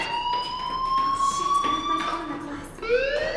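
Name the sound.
school fire alarm ringing in the video game Life is Strange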